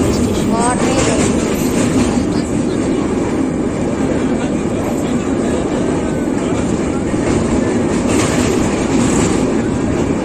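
A passenger train running out of Vijayawada railway station, heard from on board as a loud, steady rumble with rhythmic clickety-clack of wheels on rail joints continuing throughout.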